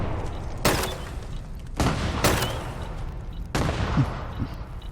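Several loud, sharp explosions and bursts of gunfire in the video game Fallout 76, three main blasts spaced about a second apart, with faint lighter shots between them.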